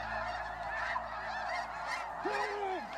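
Canada geese honk repeatedly in a steady, overlapping chorus. One call near the end stands out as a little closer and louder.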